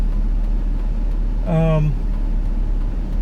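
A car drives along with a low, steady engine hum and road rumble throughout, while a short voice sound rises briefly over it near the middle.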